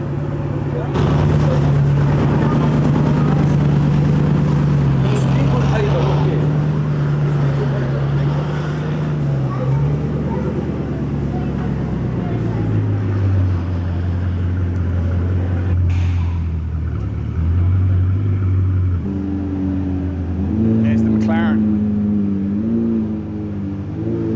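A Bugatti supercar at a dealership drives slowly through a tight turn, its engine a steady low rumble that shifts pitch as it manoeuvres, close and loud throughout.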